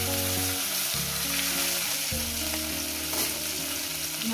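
A small amount of hot oil sizzles steadily in a pan before rohu fish goes in for curry. The crackling hiss is close and continuous, and sustained tonal notes play underneath.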